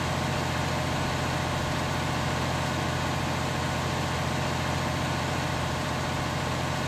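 A tractor engine, a 1050 pulling a disc across a flat field in Farming Simulator 19, drones as a steady, even hum with a low rumbling undertone and no changes in pitch or load, alone without talk.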